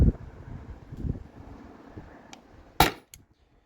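A single sharp CO2 air pistol shot cracks out near the end, loud and close, with faint wind noise and low rumble before it and a brief quiet tail after.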